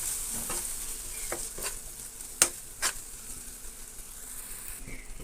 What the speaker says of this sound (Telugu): ఇవన్నీ వేసి నూనెలో బాగా వేగేంత వరకు ఉంచుకోవాలి